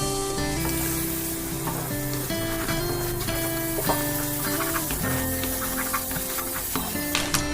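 Eggs frying in a hot pan give a steady, close sizzle throughout, with a few faint utensil taps over the crackle and no talking.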